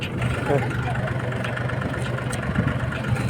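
A tractor engine idles nearby with a low, steady rumble while someone talks over it.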